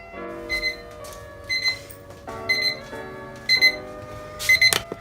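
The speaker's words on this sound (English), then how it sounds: "my alarm by my window is gonna ring" An alarm clock rings in short repeated electronic bursts that grow louder, going off in a bedroom early in the morning with no voices.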